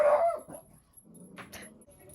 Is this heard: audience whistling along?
no